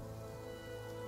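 Steady rain patters on surfaces as a dense, even hiss throughout the short stretch, continuous and without pauses, with no talking.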